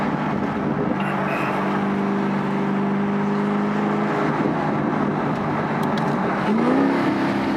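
A Camaro with an MBRP cat-back exhaust pulling in third gear at around 37 mph, its steady loud drone heard from inside the car, with engine pitch shifting slightly and no talking.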